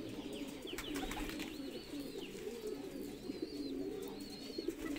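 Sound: Shirazi pigeons cooing

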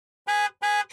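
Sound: car horn tooting

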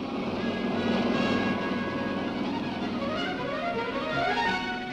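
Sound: aircraft flying over Chipiona

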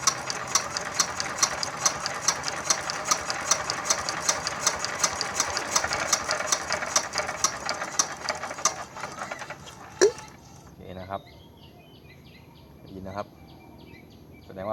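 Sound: rebuilt Yanmar TF115 diesel engine running after first start

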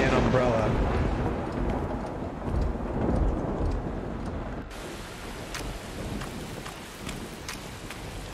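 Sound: heavy rain and thunder in video game No One Lives Under the Lighthouse

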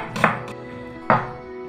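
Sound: knife chopping onion into half-rings

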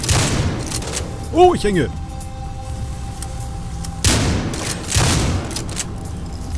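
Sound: gunfire in the video game Battlefield Hardline

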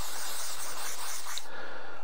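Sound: silicone spray being sprayed

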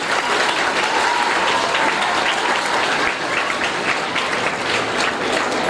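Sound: loud applause

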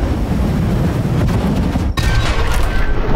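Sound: explosion of an explosive object in the video game Dysmantle

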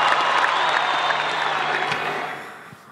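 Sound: audience applauding a speech

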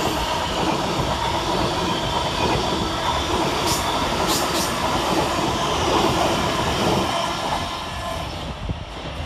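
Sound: Govia Thameslink class 700 train passing Bowes Park station

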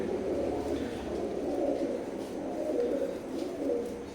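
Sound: teddy pigeons cooing

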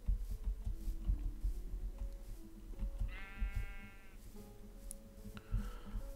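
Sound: sheep bleating in Minecraft video game

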